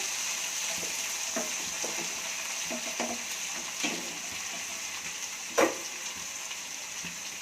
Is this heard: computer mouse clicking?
no